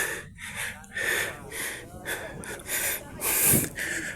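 Heavy, ragged panting and gasping breaths up close, repeated in uneven bursts as someone recovers after hiking uphill among the northern blossom gardens at Atok, Benguet.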